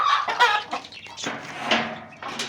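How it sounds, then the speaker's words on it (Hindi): Several chickens cluck and squawk close by while feeding on scattered grain, in a busy, irregular chorus with short overlapping calls throughout. "ये मैंने अपनी मुर्गियों को दाना डाला हुआ है।"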